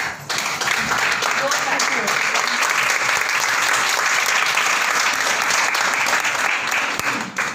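Loud, sustained applause from a seated audience at a weekly business meeting, dense continuous clapping filling the room from start to finish.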